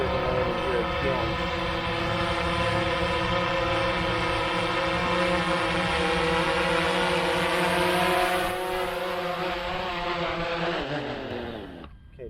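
A DJI Phantom 4 Pro V2 drone comes down for a precision landing in an open field, its steady rotor whine and buzz holding loud and close before easing off near the end as it settles.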